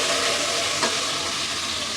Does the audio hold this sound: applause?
no